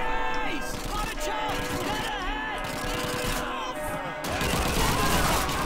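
Rapid gunfire aimed at enemy building windows in the World War II shooter Call of Duty 2, loud bursts of automatic shots crackling continuously over game noise and shouting voices.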